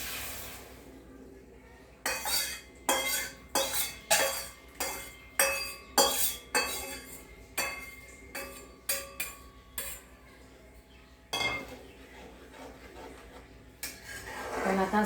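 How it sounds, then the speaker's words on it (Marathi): A utensil repeatedly scrapes and knocks against a pan while gram flour batter for suralichi vadi is stirred, a series of sharp rhythmic metallic clanks that pause briefly and then resume, close and clear. "कंटिन्यूस हलवत राहायचं आहे घट्ट होतोपर्यंत"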